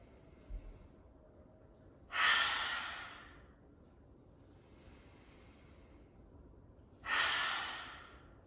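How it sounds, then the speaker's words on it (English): Two forceful open-mouthed exhalations in a lion's breath yoga exercise, breathy hissing bursts a few seconds apart over quiet room tone, close and moderately loud. "Inhale. Lion's breath out."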